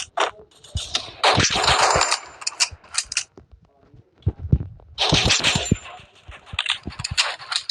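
AUG rifle fire in a video game comes as loud bursts of rapid automatic shots, broken by quieter clicks and mechanical handling noises, with a stretch of scattered single pops between the two main bursts.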